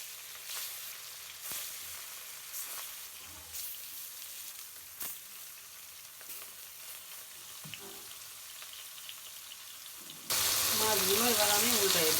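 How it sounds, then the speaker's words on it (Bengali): After quiet kitchen clinks and taps, fish go into hot oil in a wok and burst into a loud, sustained sizzle for the final couple of seconds, with a voice briefly audible over it. "তেল গরম হয়ে গেছে, মাছগুলো দিয়ে দিব"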